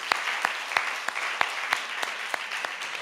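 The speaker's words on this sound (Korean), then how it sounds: "믿음으로 하나님께 영광의 박수" A church congregation claps together during a Friday prayer service, a dense wash of steady applause with a few sharper, louder claps standing out at a regular beat, continuous and fairly near.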